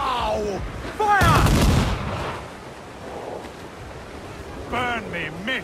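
Cannon fire booms during a naval battle in Assassin's Creed IV Black Flag, one loud blast with a rushing roar over sea and wind noise, framed by shouted voices before and after.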